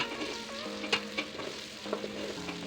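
Onions, coriander stems and meat fry steadily in a pan, a constant sizzle broken by several sharp clinks and scrapes of stirring, close and moderately loud.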